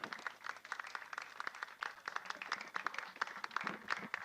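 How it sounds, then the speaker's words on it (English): Applause from an audience at a youth academy event in Macau fills the whole stretch, with uneven overlapping claps close by and a few voices mixed in. "one big final round of applause for Mini 60"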